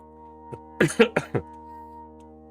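A short burst of four or five rough coughs, close and fairly loud, over a steady low hum.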